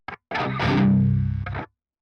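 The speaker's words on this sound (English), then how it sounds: "And then it seems to do this weird compression" Electric guitar run through Grind and DS1 distortion pedals with heavy compression: a quick clipped stab, then a thick sustained distorted chord that holds for over a second before cutting off, loud and close.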